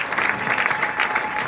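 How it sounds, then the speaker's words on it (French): A congregation claps steadily at a funeral service in a church, a dense, even applause held at moderate loudness for the whole moment. "tozali kokumisa Nzambe en applaudissant au nom de Jésus"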